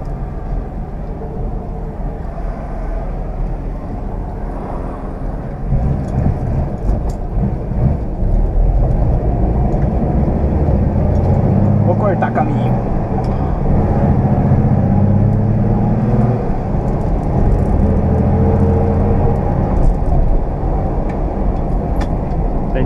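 A 1969 Willys Aero car driving, heard as a continuous low engine drone and road rumble from inside or close by, swelling louder midway as it pulls along, with no talking.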